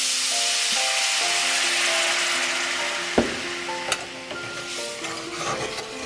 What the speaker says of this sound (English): and I'm going to scrape it. And I'm going to put in some white wine.